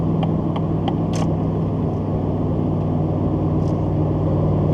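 A car with a swapped-in 6.2L engine cruises in 4th gear at low, steady revs, a continuous close hum and drone inside the cabin with a few faint clicks and ticks, no talking.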